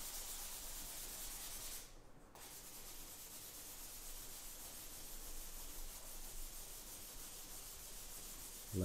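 Kitchen towel rubbing and smoothing charcoal across paper in a drawing, a soft continuous scratchy swishing close by that stays fairly steady apart from one short break.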